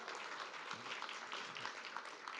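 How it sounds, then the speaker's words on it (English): An audience at the EMA General Assembly 2022 gives a round of applause. The clapping is steady but faint and distant, and it continues evenly through the short clip with little talk. "A round of applause for you guys."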